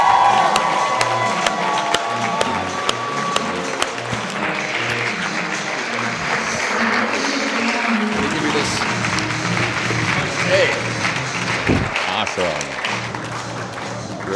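Conference audience at a keynote event giving sustained loud applause with cheering and whoops from a large crowd, filling the room steadily throughout.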